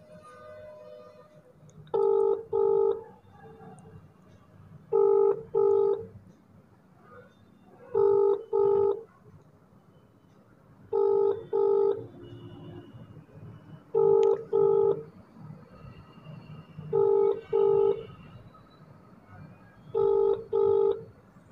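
A telephone call rings out: paired ringback tones repeat about every three seconds, eight double bursts in all, above a low hum of background noise.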